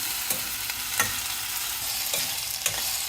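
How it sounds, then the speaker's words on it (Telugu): Okra (bendakai) frying in a pan for a Rayalaseema-style sour curry, a continuous loud sizzle with occasional scrapes and taps of a stirring spoon. "ఇలా బాగా వేయించుకోవాలండి ఇదిగోండి బాగా వేగిపోయింది"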